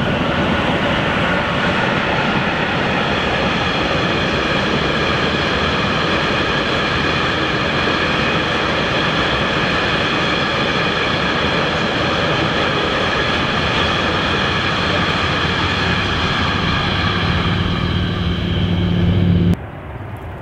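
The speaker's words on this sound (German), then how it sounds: "Die erste der beiden 185er arbeitet, die zweite der 185er hat den Stoßabnehmer gesenkt und wird von der vorderen Lokomotive mitgezogen." A train hauled by two class 185 electric locomotives, the lead one working and the second with its pantograph lowered, rumbles past steadily and loudly along the Rhine line, ending abruptly near the close.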